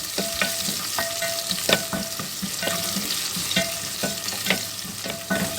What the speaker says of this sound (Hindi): इसके अंदर हम प्याज शामिल कर देंगे और इसके बाद इसको भी 2-3 मिनट जो है वो सौते कर लेंगे